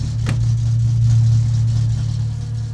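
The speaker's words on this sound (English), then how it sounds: "we came over that hill and the car got really loud" A loud, steady car engine from the video game My Summer Car drones at a low pitch with a rough, unmuffled rumble after losing its muffler, holding nearly constant throughout.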